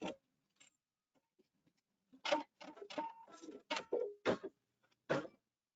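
A Pfaff sewing machine stitches in short bursts of rapid mechanical clatter, close and fairly quiet, with brief pauses between runs and a few faint ticks before it starts.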